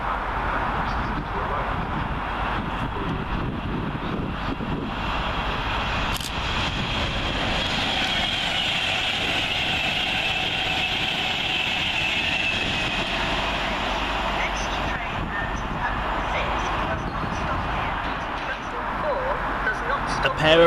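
A Class 390 Pendolino train for Avanti West Coast passes through Milton Keynes Central station with a continuous rushing roar and electric whine, heard steadily from nearby, with talk over it.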